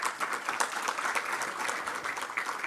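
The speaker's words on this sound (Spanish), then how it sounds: "Un aplauso para Luis, por favor." A crowd applauding steadily, a dense patter of many hands clapping at moderate volume throughout.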